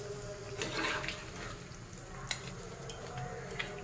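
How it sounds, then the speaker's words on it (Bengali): Quiet bubbling and simmering of a vegetable and fish curry in a pot, soft continuous burbling with occasional small pops and ticks, close by with no talking. "এদিকে তো তরকারি টকবক করে ফুটছে"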